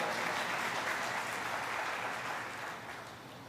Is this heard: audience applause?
yes